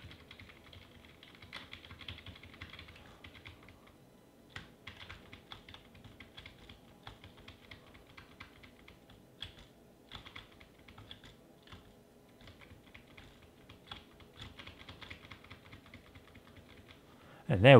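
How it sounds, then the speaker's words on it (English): Computer keyboard clicks during a Cave Story livestream, with steady rapid key taps running the whole way at moderate level and a louder burst at the very end; no talk. "Got to make sure that all of you guys can hear from me as my keyboard clicking."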